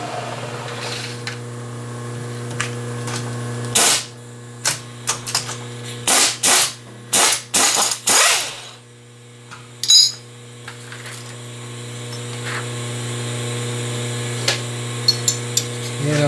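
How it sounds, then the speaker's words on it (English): End mill being fitted into a milling machine spindle: a series of sharp metallic clicks and clanks in quick succession, close, over a steady low motor hum, then sparse faint taps. "So now, let's put the end mill in."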